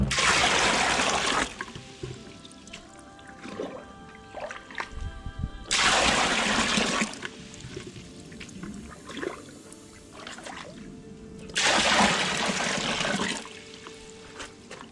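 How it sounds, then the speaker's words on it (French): Buckets of pond water poured into a koi pond setup, three loud gushing splashes each lasting over a second, separated by quieter trickling and handling noises, with no talking. "Je vais mettre 5 seaux. Eau du bassin."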